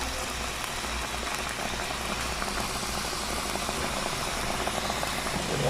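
Coconut milk simmers in a pot for a Filipino fish stew with petchay, a steady close bubbling hiss that keeps on without pause.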